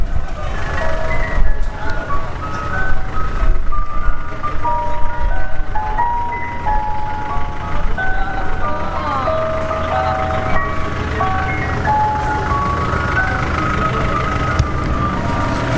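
An ice cream truck jingle plays its repeating melody continuously over a low rumble of traffic and outdoor noise, with the tune staying fairly steady and moderately loud throughout.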